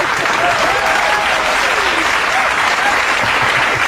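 An audience at a comedic stage debate breaks into loud, continuous applause, a close, dense wash of clapping that holds steady throughout.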